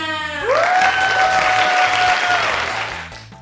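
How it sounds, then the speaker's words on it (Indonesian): An audience at a gelatin product launch event applauds, a burst of clapping that swells and then fades over a few seconds, mixed with a rising tonal sound and background music. "Beri tepuk tangan semuanya."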